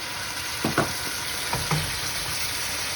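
Ouzo sizzles in a pan with king prawns for garides saganaki, a steady close frying hiss broken by a few soft stirring scrapes, with no one speaking.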